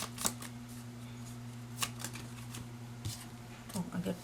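Animal spirit oracle cards shuffled by hand, soft papery riffles and a few sharper flicks at uneven intervals, close and fairly quiet with a steady hum behind.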